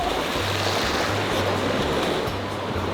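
Sea waves wash and slap against an inflatable surfboard, a constant rushing surf with low thumping pulses and wind noise, close to the microphone.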